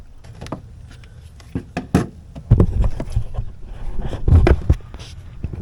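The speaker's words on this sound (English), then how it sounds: "I'm going to attempt to cut this off with a razor blade rather than a hacksaw." A razor blade slices through the foam and plastic air duct of a Porsche 996, heard close as irregular soft cutting scrapes and muffled thumps of handling, growing denser and louder partway through.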